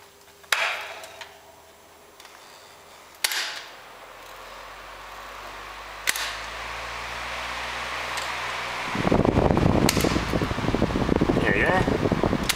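An old electric fan runs after a repair, its steady motor whir building from a quiet start through a few knocks and clicks, then growing louder and rougher with a rattling, buzzing hum in the last few seconds.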